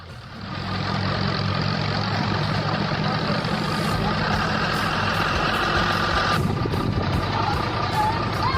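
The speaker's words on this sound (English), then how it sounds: "The Sinotruk 336 dump truck is unloading impressively, with the gravel bed in the back making it sway with every movement." A Sinotruk 336 dump truck unloads gravel: a loud, steady heavy diesel rumble runs throughout with a broad grinding wash over it and faint intermittent beeping.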